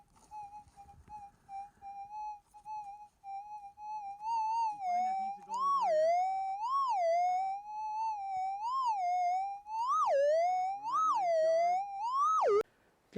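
A metal detector sounds over a buried target while searching for gold outdoors, giving a sustained electronic tone that starts steady, then wavers and swoops up and down in repeated bursts, with no talk.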